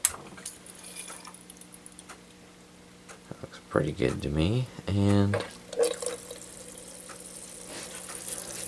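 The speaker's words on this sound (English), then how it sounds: "I fitted the condenser and now we'll start the flow of water." Cooling water starts running through a lab condenser fed by a small submersible pump, with trickling, gurgling bursts and drips in the middle, while a person talks quietly before and over it.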